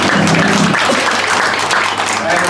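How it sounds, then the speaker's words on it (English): A press-conference audience gives loud, continuous applause to welcome a two-weight-division world boxing champion. The clapping stays close and steady, and a voice is heard briefly at the start. "Give him a round warm of applause."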